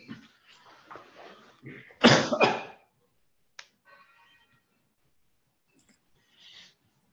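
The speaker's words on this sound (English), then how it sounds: "I think that's why I'm frequently coughing in between" A man with a sore throat coughs in a burst of two or three harsh, close coughs after some soft throat noises and breaths, then falls mostly quiet.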